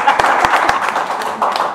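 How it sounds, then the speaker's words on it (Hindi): Scattered audience clapping at a song launch event, a few sharp handclaps in the first second followed by lighter, blurred applause under background murmur. "एक बार जोरदार ताली"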